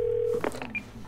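Telephone keypad tones in Twelve Minutes: a steady dial tone cuts off and is followed by a quick run of short, distinct DTMF beeps as the number is entered, close and clear with no talking.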